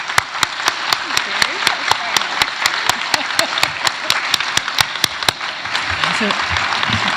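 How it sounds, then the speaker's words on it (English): A conference audience breaks into a sustained round of applause, dense steady clapping filling the room for several seconds, with a few sharp regular clicks cutting through the crowd noise. "So I'd like everybody to give the team a massive round of applause."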